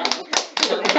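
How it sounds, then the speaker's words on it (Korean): A few hands clap in quick, rhythmic bursts, about four sharp claps in one second, close and fairly loud, in a small studio for a Korean business-analysis channel. "일단 박수 한번 칠까요?"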